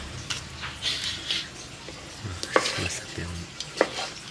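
Banana tree stem stir-fried in a pan, with a spatula scraping and clinking against the metal in irregular strokes over a soft sizzle, close and fairly quiet.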